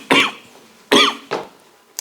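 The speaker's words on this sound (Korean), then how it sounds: "기침이 나오냐?" A person coughs three times in close succession, loud and near, in a quiet room, with a brief pause before the first two and a shorter one before the third.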